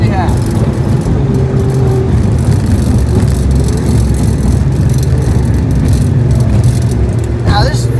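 Alfa Romeo Giulia QV widebody engine droning steadily from inside the cabin as it accelerates with manual gear shifts, a constant low rumble with subtle pitch steps, talk over it.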